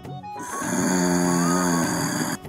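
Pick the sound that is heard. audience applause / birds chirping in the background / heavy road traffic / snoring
snoring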